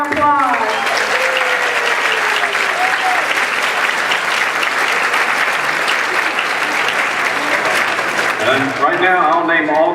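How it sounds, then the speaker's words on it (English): A convocation audience applauds in a dense, sustained roar of clapping for several seconds, loud and close, with a voice speaking briefly at the start and again as the clapping fades. "Stand and give them a round of applause."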